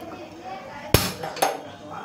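A gas burner is lit under a kadhai set out for frying marinated chicken. Two sharp metallic clicks about half a second apart cut through a quiet kitchen room tone, with no talking.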